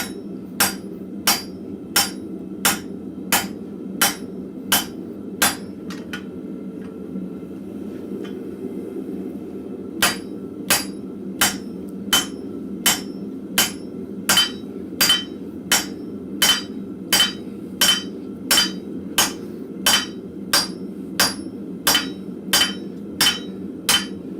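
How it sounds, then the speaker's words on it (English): Steady, evenly spaced hammer blows ring on hot metal in a blacksmith forge, a short pause midway, then the rhythmic strikes resume, loud and close over a low roar. "I'm going to probably hammer this all the way through."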